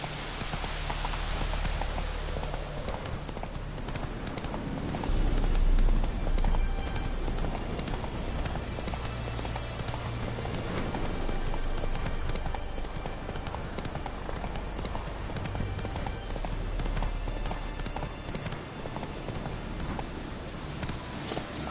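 Hooves of Geralt's horse Roach in The Witcher 3 clip-clopping in a steady rhythm on ground, close and continuous, with rain-like patter and occasional louder stretches.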